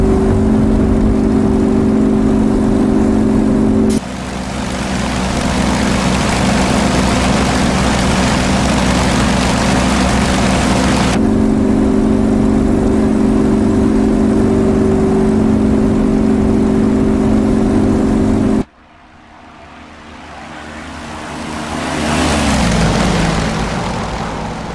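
Simulated Yak-52 propeller aircraft engine in DCS drones steadily and loud for most of the stretch, holding a constant tone, then cuts out and swells again into a rising, rumbling run-up near the end.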